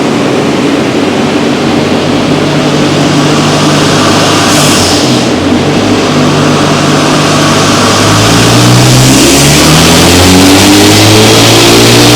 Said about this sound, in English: the car is now on the dyno, it's strapped down, the exhaust extractor is running